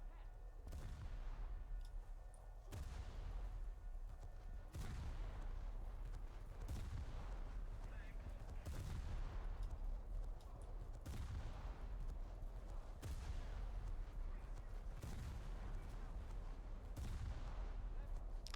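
Video game gunfire and shells strike at a steady pace: heavy booming blasts land roughly every two seconds over a constant dense rumble, loud and close, with no clear talking.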